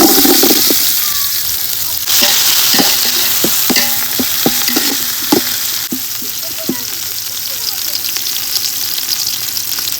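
Chopped onions frying with whole spices in a pan, cooked for a village-style chicken biryani, giving a steady loud sizzle with intermittent stirring clinks and scrapes.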